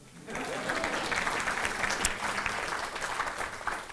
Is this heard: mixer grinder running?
no